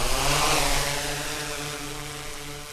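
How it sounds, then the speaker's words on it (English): St. Louis Public Radio's news drone in flight, a steady loud motor whine with layered tonal hum held throughout, fading slightly toward the end, with no voices. "That's the sound of St. Louis Public Radio's recently acquired drone."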